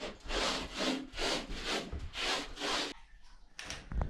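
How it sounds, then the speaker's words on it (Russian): Brush or roller strokes applying concrete contact primer to bathroom walls, four rhythmic rubbing swishes at a steady pace, close and fairly quiet, followed by a short pause and a few light scrapes. "И начинаем бетоноконтактом обрабатывать стены."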